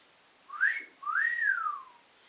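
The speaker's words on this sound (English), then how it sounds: "One of those things I'll do for you is a whistle. If I see somebody walking past, I might whistle at them" A person whistles a two-part wolf whistle of the kind aimed at a passer-by: a short rising note, then a longer rising and falling swoop, clear and close in a quiet room.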